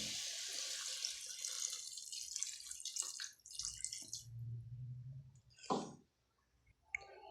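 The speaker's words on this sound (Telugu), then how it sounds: "కొద్దిగా వాటర్ వేద్దాం" Water poured into a pan of chicken curry, heard as a close gurgling splash and a short trickle, followed by drips, clicks and a brief clatter near the end.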